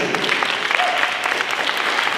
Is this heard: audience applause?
yes